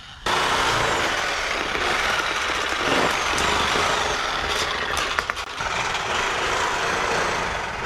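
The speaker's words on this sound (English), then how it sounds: "Cheap Harbor Freight electric shears like this work awesome for cutting" Cheap Harbor Freight electric shears cut through steel carport sheet with a loud, continuous, harsh buzzing grind that runs almost unbroken from start to finish.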